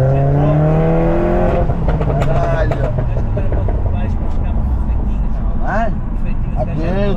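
A Volkswagen Golf VII GTI with a Stage 2 tune and full stainless exhaust revs loudly and rises in pitch over a constant roar, with people talking and shouting over the noise in a garage.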